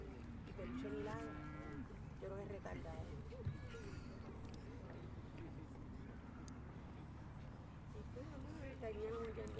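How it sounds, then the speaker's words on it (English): Cattle kept by high school agriculture students moo near a baseball field during a game, with several drawn-out lowing calls over steady outdoor noise and talk. "May have heard the cattle of the Forest High School agriculture students."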